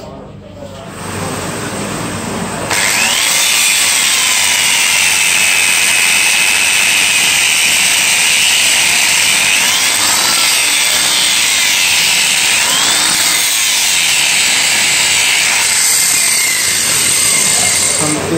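An angle grinder cuts through cow bone at a market, a loud continuous high-pitched whine with a grating edge that holds steady for most of the stretch, its pitch dipping and rising as the disc bites and eases.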